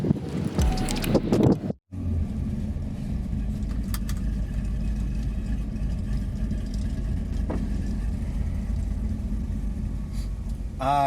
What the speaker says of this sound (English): I'm sorry if it's super loud because it's very windy today.